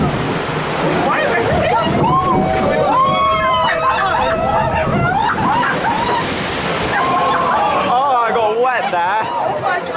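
Water sloshing and splashing along the Pirates of the Caribbean boat ride at Disneyland, a steady wash that runs under loud crowd chatter and several voices talking throughout.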